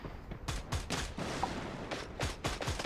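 Rapid bursts of gunfire from a shooter video game tournament match, several sharp volleys and single shots repeating over a continuous crackling background, loud and close with no talk.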